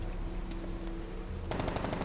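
A burst of rapid automatic gunfire in Batman: Arkham Knight erupts after a steady low game hum, sharp cracks firing in quick succession, loud and close.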